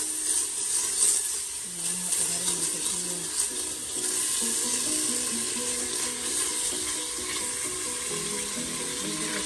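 Butter melting and sizzling in a pan while preparing Guerrero-style esquite, a steady soft frying hiss with faint bubbling, close and continuous, no voices.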